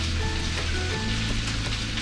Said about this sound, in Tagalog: Pag nag-golden brown na ang bawang, lagyan natin ang sibuyas.